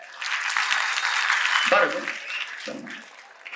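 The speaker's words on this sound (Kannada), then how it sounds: "ಜೋರ್ ಚಪ್ಪಾಳೆ" An audience gives a round of applause at a promotional event for the Kannada film Pinaka: steady, dense clapping for about three seconds, with someone speaking briefly over it.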